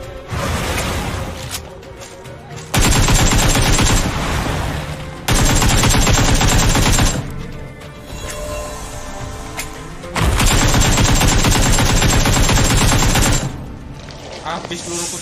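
Bursts of automatic gunfire from the PUBG video game come in three long, loud volleys separated by short gaps, rapid and dense, with a voice speaking faintly in between.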